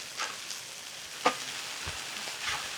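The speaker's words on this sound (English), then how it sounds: "We need to flip our chorizo." Chorizo on a Blackstone griddle releasing its grease gives a steady, close sizzle and crackle with occasional sharp scraping clicks, and no voices.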